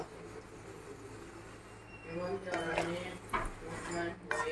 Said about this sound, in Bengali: রাইসটা নাড়তে থাকবো